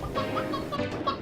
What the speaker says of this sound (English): Let's throw some chickens after winning big at this slot machine